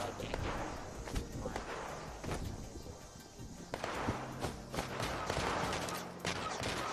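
Automated turrets fire in Fallout 76, with rapid bursts of gunfire repeating in clusters across several seconds and mixed with other game noise and faint speech.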